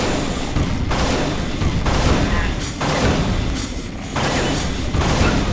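Rapid gunfire in the Unreal video game, fighting through the Sunspire level, with dense bursts of shots and booms repeating across the whole stretch, loud and close, with brief gaps between volleys.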